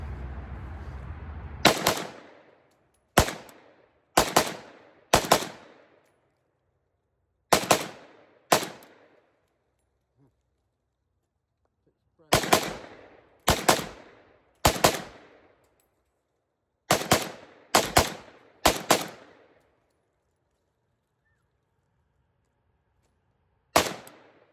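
An AK rifle fires at a shooting range: about fourteen loud, close shots, single and in quick pairs, each with a short ringing tail and quiet gaps between.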